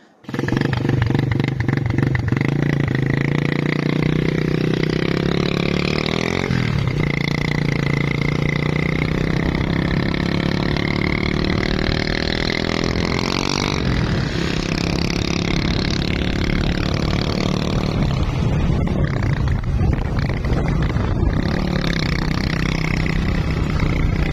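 A motorcycle engine runs continuously and loudly throughout, its steady rumble shifting slightly in pitch as the throttle changes, with no voices.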